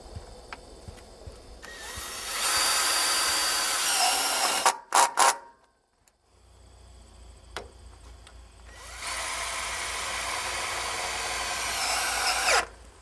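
Power drill driving screws into the wooden hip board of a high tunnel under construction, two long loud whirring runs separated by brief bursts and a quiet pause, close up with no talk.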